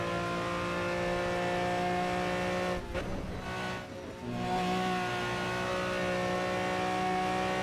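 A racing car engine in the Project CARS video game holds a loud, steady whine, then drops and rises again around the midpoint as gears change, heard from close in the cockpit and continuous throughout.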